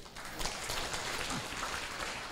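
Applause from a group at a Taiwanese government cabinet preparatory meeting, a steady wash of clapping hands lasting the whole stretch, moderately loud and even, with no voices over it.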